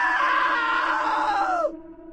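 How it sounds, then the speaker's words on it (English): A single loud, sustained scream of pain from a man who slipped into a table saw, held for over a second and a half before breaking off abruptly, with no talk over it. "Now that was a great scream."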